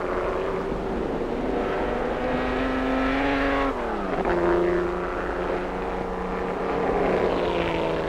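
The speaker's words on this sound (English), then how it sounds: "The crowded South Grandstands get their first sight of the might and speed of the Ferraris as they sweep through this right-angle bend." Ferrari race cars sweeping through a right-angle bend on a circuit, a steady engine roar with shifting pitch as the cars pass, dipping and rising midway and continuing at even loudness without any voices.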